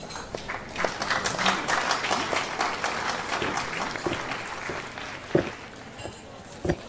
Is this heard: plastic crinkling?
no